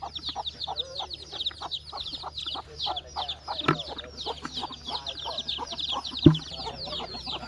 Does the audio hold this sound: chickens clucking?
yes